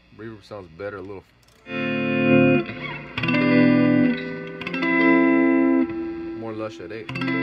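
A 1978 Roland GA-20 solid-state combo amp with a 12-inch speaker rings out with electric guitar chords and single notes, each bathed in a lush reverb tail that lingers between strums.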